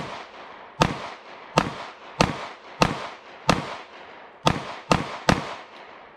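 A Walther PDP 9mm pistol fires eight sharp, loud shots at uneven intervals, each crack followed by a short decaying echo, with no talking.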